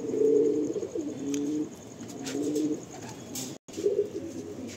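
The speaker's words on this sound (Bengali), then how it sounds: "এই এক পেয়ার পায়রা আছে, দেখে নিন।" A pair of pure-bred high-flying pigeons cooing close by, repeated low throaty coos in a loose rhythm with faint background hiss and no talk.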